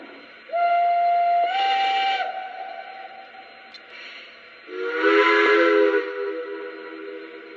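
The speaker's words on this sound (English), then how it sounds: "Let's check out the whistles. This does have the 5 whistles and bells" Whistle blasts from a Lionel Legacy Pennsylvania B6sb model steam locomotive, two separate sustained toots with a sharp onset and a slight pitch rise, the second lower and deeper, loud and close with no talk.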